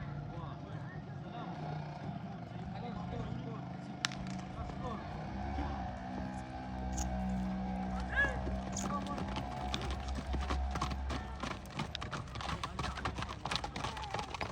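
A fantasia horse and its foal for sale, with hooves clip-clopping in a scattered rhythm, clearest in the second half, under steady background noise and people talking nearby.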